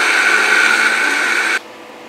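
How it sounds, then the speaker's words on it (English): A blender runs at high speed grinding two cups of sesame seeds, a loud steady whine that cuts off abruptly near the end, leaving a quiet hum. "you add it right to the blender and blend it. Turn it to high speed."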